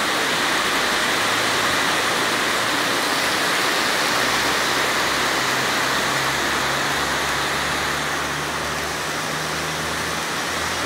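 A downpour in Chapadão, Livramento, turns the street into a stream. Loud, continuous rushing and hissing fills the whole stretch, with a faint low hum underneath and no talking.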